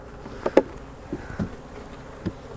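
Honey bees around an opened hive during winter preparation give faint, scattered buzzes, with several brief close passes standing out above a quiet background.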